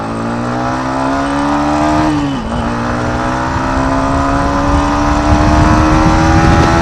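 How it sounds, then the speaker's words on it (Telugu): A Yamaha MT15, a 150 cc motorcycle, accelerates hard in second gear. Its loud, close engine note climbs steadily in pitch, dips briefly at a shift, then keeps rising under wind noise. "వన్స్ అగైన్ మళ్ళీ పవర్ చెక్ చేద్దాం సెకండ్ గేర్"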